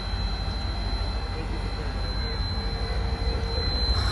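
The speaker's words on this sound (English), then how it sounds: "Train's gonna pull out, and we'll get it on video here for you." An O-gauge model train pulls out along a home layout, a steady close rumble of motor and wheels with a thin whine running over it the whole time.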